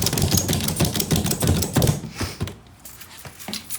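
A ratchet strap is cranked tight with rapid bursts of sharp, close mechanical clicks in quick repeated strokes, then a few slower, quieter clicks.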